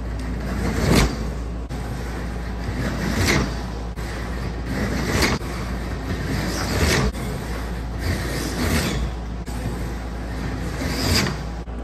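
A 1/32-scale slot car with a repositioned motor runs laps on its track, its buzzing whine swelling as it passes close every couple of seconds, repeating about five times with steady mechanical noise between passes.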